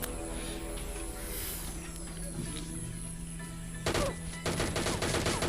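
Gunfire in a sniping match from a mobile shooter game, a steady machine-like background punctuated by two bursts of rapid shots near the end, with no talk.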